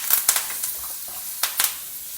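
Cooked, drained kabuli chana is tossed into a sizzling tempering of browned dals, hing and curry leaves. A steady hiss runs under sharp spoon-and-pan clatters that come in quick bursts.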